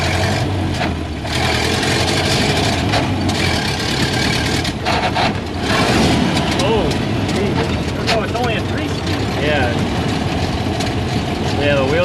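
The engine of a 93-year-old truck runs at a steady, rough idle close to the microphone, a continuous rumble with people talking over it.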